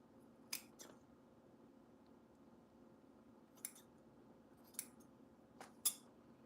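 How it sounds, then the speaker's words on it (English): Scissors make a few separate crisp snips into the fabric of a red headband, each cut short and sharp, with quiet pauses between them. "I am gonna snip it just a tad bit shorter than I have it right now"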